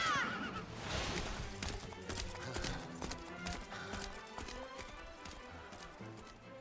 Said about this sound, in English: Oh, she spooked the horse.